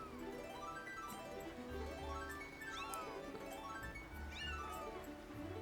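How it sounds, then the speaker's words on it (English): Remlets in Zelda: Skyward Sword HD meow along with harp music, their repeated rising and falling meows clear and close over steady, continuous harp strumming. "They meow along with your harp."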